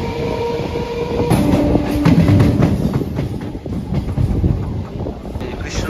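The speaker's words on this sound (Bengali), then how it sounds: "ট্রেন ঢুকছে বীরনগর স্টেশনে।" A local train pulls into Birnagar station on the Krishnanagar line, wheels clattering over rail joints with a steady rumble and wind buffeting the microphone, loud and close throughout.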